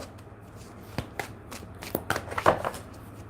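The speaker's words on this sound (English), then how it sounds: "I'm going to take out 3 cards and then I'll unfold for you" Tarot cards shuffled and drawn by hand: soft papery riffles and flicks, a few distinct card slaps clustered near the end, close and quiet with no talking.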